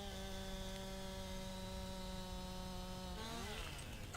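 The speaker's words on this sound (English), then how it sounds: "I believe the direction in which your chainsaw goes is where it falls" Steady droning chainsaw engine from the Farming Simulator 19 video game, cutting down a tree, holding an even pitch for several seconds before the tone shifts and wavers near the end; loud and continuous with no talk.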